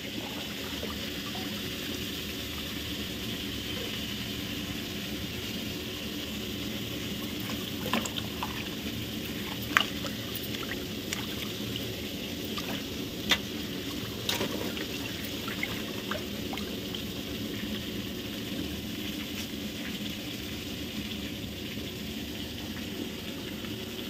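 Bhetki fish is rinsed in salt and lemon water, making a steady splashing trickle with scattered soft knocks and drips. It sounds fairly close and continuous, with no talking.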